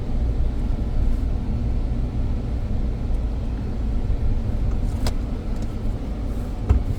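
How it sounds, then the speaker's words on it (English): A 2007 Toyota Tundra pickup on the road, its steady low engine and tire rumble continuous from inside the cab, with a couple of faint clicks and no talking. "we're just gonna go and take it for a drive"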